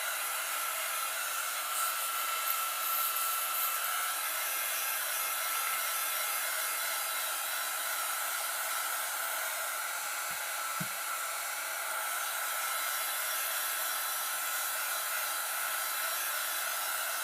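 A heat tool blows over wet watercolor paint to dry it, a loud, steady, airy whoosh held continuously and close, with one faint brief knock partway through.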